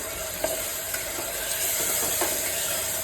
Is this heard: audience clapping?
no